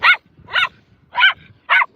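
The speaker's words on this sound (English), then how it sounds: "go bark somewhere else" A dog barks four times in sharp, high yips spaced about half a second apart, loud and close with quiet gaps between.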